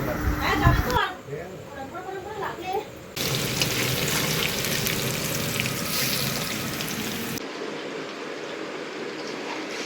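Onions frying in a pan in a family kitchen, a dense, steady sizzle that comes in loud stretches, with voices talking in the background.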